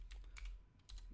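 Typing on a computer keyboard, a few faint, quick key clicks close by in a quiet room with a low hum underneath.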